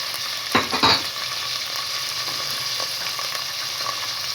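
Mixed vegetables such as peas, carrot, capsicum, cauliflower and cabbage frying in a pot for soup: a steady close sizzle runs throughout, with a brief burst of stirring or tossing near the start.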